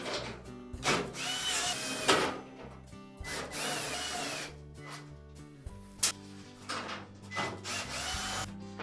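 A power drill runs in short bursts, removing screws from the cabinet of a Whirlpool clothes dryer during a repair, with close, loud whirring and rattling against metal.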